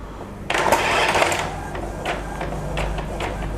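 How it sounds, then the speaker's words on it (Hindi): A printer reprints a cheque sent from Raintech POS billing software, its mechanical whirring starting abruptly about half a second in and running steadily with a few faint clicks, close and moderately loud, with no talking. "अभी दोबारा प्रिंट आ जाएंगे आपको"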